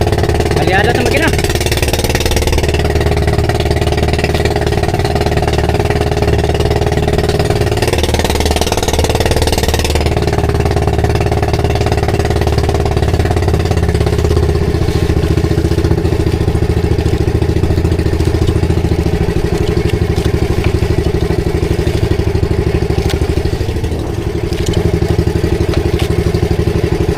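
Boat engine idling at sea on a Pacific voyage, a steady low mechanical drone with clattering overtones running throughout, loud and constant, with voices occasionally over it.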